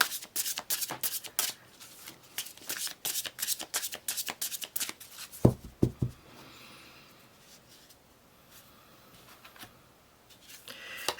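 Tarot cards are shuffled close up in quick repeated riffles and taps for about six seconds, ending in a few sharp knocks, followed by quiet handling.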